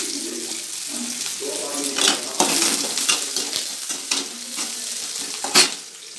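Chili, cumin and mustard seeds fry in hot mustard oil with a steady crackling sizzle, broken by a few louder pops and stirring scrapes, with faint background voices.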